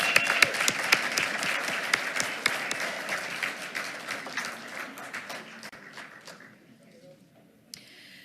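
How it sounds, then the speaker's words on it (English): Audience applause at a Tyler ISD school board meeting: a dense, steady round of clapping from a roomful of people that gradually thins and fades out toward the end, with one last stray clap. "Let's give him one more round of applause."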